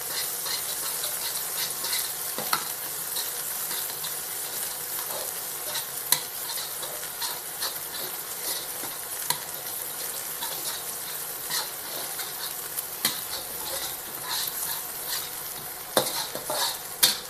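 Ginger garlic paste fries in a pan for a fish curry, with a steady bright sizzle and scattered sharp clicks of stirring, close and moderately loud.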